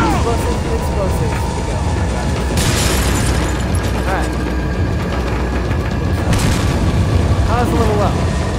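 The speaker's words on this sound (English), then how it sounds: "For the hand grenade." A hand grenade goes off in Resident Evil 4, a loud, heavy boom within a dense, continuous game soundscape of rumbling effects, with a voice talking over it.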